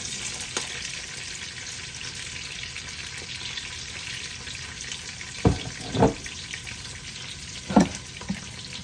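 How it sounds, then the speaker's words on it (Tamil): Onions frying in a pan with a steady low sizzle, broken by several distinct scraping stirs and clatters toward the end. "இப்போ இந்த ஸ்டேஜில் வெங்காயம் போடுறேன்"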